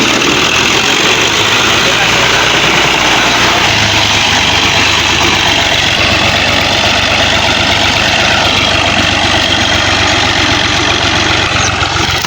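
A tractor engine idles nearby, a loud, steady low rumble running throughout while a person talks over it.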